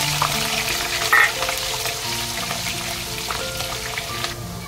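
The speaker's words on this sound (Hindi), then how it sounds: "अब हम इसी तेल में आलू फ्राई करेंगे अपना।" Potatoes fry in hot oil with a dense, continuous sizzle and crackle, close and steady, with occasional stirring clinks and no talking.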